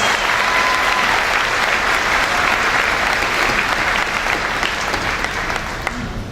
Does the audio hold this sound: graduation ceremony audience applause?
yes